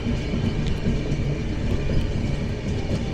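A passenger train runs on the Howrah to Raxaul line, its carriages giving a steady, close rumble with faint rhythmic clatter throughout and no voices.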